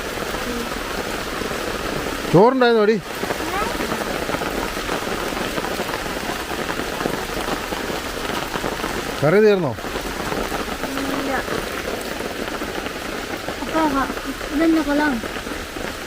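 Heavy rain pours steadily throughout, a dense hiss of drops hitting surfaces, while people talk briefly over it and a couple of short whooshing sounds pass.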